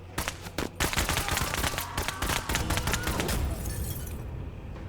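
Rapid bursts of gunfire ring out in the tactical video game Menace, a dense volley of close, loud shots with sharp cracks and impacts that thin out toward the end.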